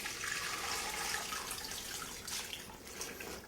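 Hot duck fat, heated to about 180 degrees, poured over turkey legs in a cast iron container, a steady close liquid stream with a soft splashing texture, heard alone.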